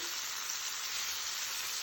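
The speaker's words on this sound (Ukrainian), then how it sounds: "Викладаю і обсмажую швиденько з двох сторін." Liver sizzles in a hot pan as pieces are quickly seared on both sides, giving a steady, dense crackling hiss throughout with no talking.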